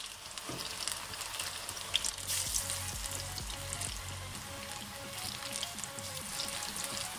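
Potato and onion pakoras with tomato, green chilli and coriander frying in hot oil on a slow flame, a steady crackling sizzle with occasional stirring clinks and soft bubbling, no voices.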